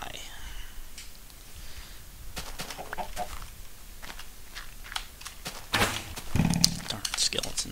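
A Minecraft chicken clucks in short, faint bursts during cave-system gameplay, sitting among quiet clicks, keyboard taps and soft footsteps, with a voice talking over the game sounds.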